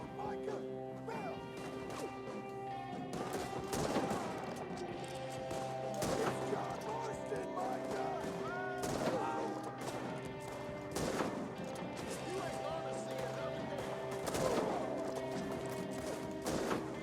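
Gunfire with regular bullets in Red Dead Redemption II, sharp shots and impacts recurring every couple of seconds over a quiet musical bed, with occasional talk in between.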